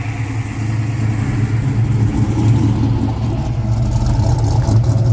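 A red car's engine idles slightly above normal idle speed, giving a loud, steady, low rumbling drone that holds constant throughout with no voices.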